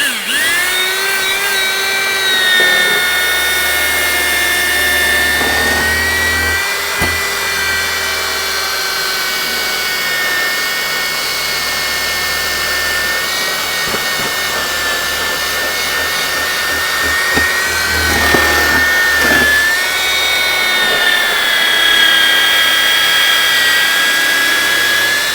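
An old power drill with a cleaning attachment spins steadily while scrubbing the interior of a Suzuki Wagon R+, a close, continuous high whine that shifts slightly in pitch as it meets resistance, with no voices.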